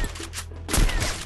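A sniper rifle shot in Free Fire, a loud blasting report with a short rumbling tail, heard alone without talk.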